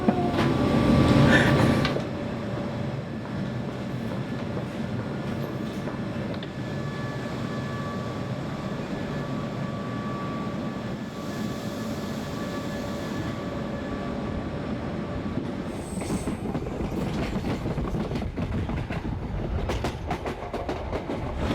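A train at a railway station on a London to Hereford route, with a loud rumbling passage at the start, then a steady low engine drone and hum and occasional rattles, no talking.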